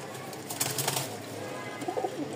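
Rajshahi Giribaz pigeons kept for sale coo softly in a short burst, with faint rustling around them and no talking.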